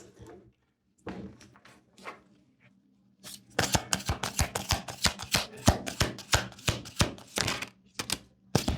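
Oracle cards are shuffled close up, a few soft handling rustles giving way to a long run of quick, crisp riffling flicks in a steady rhythm, fairly loud with no talk.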